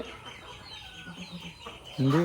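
A chicken clucks near the end in a short, loud burst of calls, following quieter background noise and soft, distant voices on a farm.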